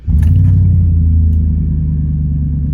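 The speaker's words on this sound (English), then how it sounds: "I'm gonna turn the car on if it works" A car engine starts with a new battery installed and settles into a loud, steady, close-up rumble that holds for a few seconds, with no voices.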